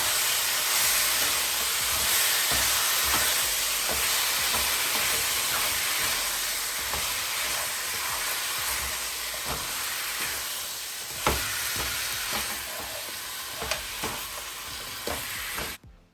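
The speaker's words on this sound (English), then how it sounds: "now go ahead and add the turkey neck. Add it, yes, and we're just going to mix it up" Turkey neck pieces sear in caramelized sugar, a loud steady hiss and sizzle filling the pan while a utensil stirs and taps now and then, with a few sharper knocks near the end.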